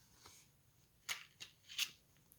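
Tarot cards being handled and laid out on an altar, heard as a few soft, quick card slaps and slides, two louder ones standing out against a quiet background.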